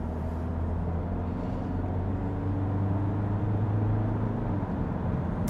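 Steady low engine drone from a Skoda Kodiaq with a 2.0 diesel producing 140 kW and a DQ500 gearbox, heard from inside as it pulls forward, a smooth continuous rumble that swells slightly and holds without voices.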